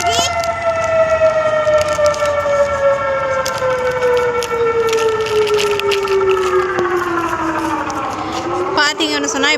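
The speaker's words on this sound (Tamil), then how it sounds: "அந்த சைரன்ஸ் தான் இப்போ நீங்கள் கேட்டுட்ருக்கிறது." Wailing air raid sirens rise and fall in long overlapping tones, steady and loud, carrying over a distant rumbling background.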